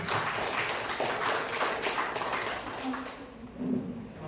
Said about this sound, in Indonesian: Tepuk tangan yang ke-10.